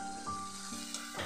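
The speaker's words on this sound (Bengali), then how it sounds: "এটাকে আমি লো টু মিডিয়াম ফ্লেমে ভেজে নিচ্ছি" Spice paste with ground onion and finely chopped onion frying over a low to medium flame, giving a steady soft sizzle throughout with faint stirring noises on top, close and fairly quiet.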